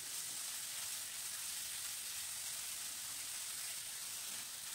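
Finely chopped onions sizzle steadily in a hot pan while making dhaba-style palak paneer, a dense, even frying hiss that runs unbroken and fairly close with no talk over it.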